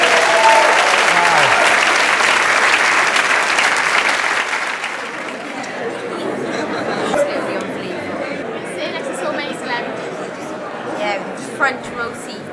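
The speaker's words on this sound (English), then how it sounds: "This is your audience. They are applauding you." An indoor audience at a school sports awards ceremony in Wales applauds loudly and steadily. The clapping gradually thins into scattered claps and crowd chatter.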